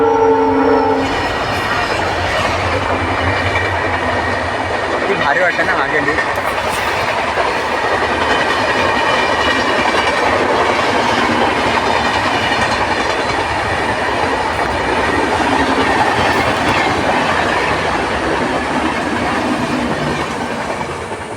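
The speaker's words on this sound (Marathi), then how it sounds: "ट्रेन पण आली इकडे." A passenger train rolls along a raised track beside farm fields in rural Konkan, its loud, steady rumble and clatter filling the scene as the horn sounds near the start, with a brief voice speaking over it.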